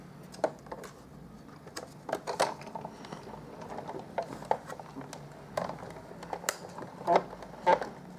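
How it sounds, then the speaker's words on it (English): A Big Shot die-cutting machine is cranked by hand with a card and die inside, giving a string of irregular light clicks and clunks up close in a quiet room, with a few sharper knocks near the end. "And then I'm going to crank these through my big shot."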